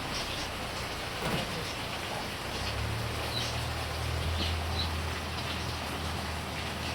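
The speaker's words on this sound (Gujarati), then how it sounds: "બહુ જબરજસ્ત વરસાદ ચાલુ થઈ ગયેલો છે" A heavy downpour hisses continuously and loudly, drops drumming on surfaces, with a faint low hum joining partway through.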